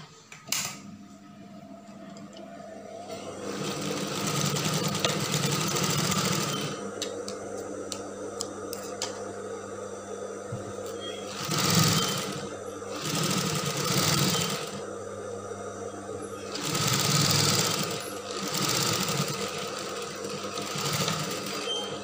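A sewing machine stitches the lining of a mermaid dress in several runs, its rapid mechanical ticking rising and easing between bursts, close and steady with short pauses.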